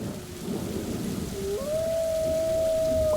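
Rain from weather control in an audio drama falls as a steady, loud downpour with rumbling storm texture, joined partway through by a sustained rising electronic tone, with no talk.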